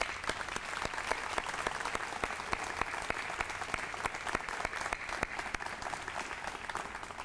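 Steady, moderately loud applause fills an audience hall honoring educators at the 1996 Golden West College Pillars of Achievement Ceremony, with many hands clapping continuously throughout, unbroken by speech.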